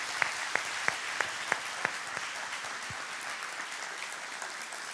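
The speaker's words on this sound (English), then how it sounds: "Would you give them a round of applause?" An indoor church audience claps through a Sunday service, a dense spread of hands at moderate distance, with several sharp louder claps near the start before the applause settles into an even patter.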